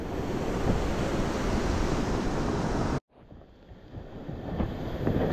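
Ocean surf washes up on a beach in a loud, continuous roar with wind buffeting the microphone, cutting out abruptly partway through and then building back up.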